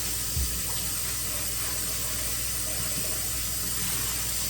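Lamb meat is rinsed under steadily running tap water, a constant close hiss and splash with faint handling knocks and no talking.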